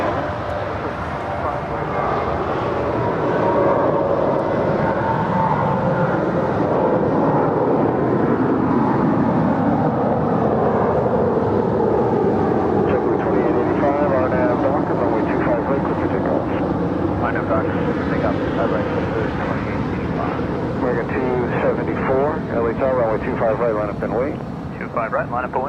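An airliner comes in to land on runway 25 left at LAX, its engines roaring steadily and loud throughout, with a radio voice talking over the drone.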